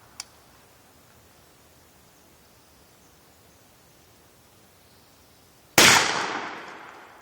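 A single loud gunshot from an XT-15 28 gauge side-by-side shotgun firing a .530 round ball rings out near the end, decaying with a trailing echo after a long stretch of quiet outdoor hiss and one faint earlier click.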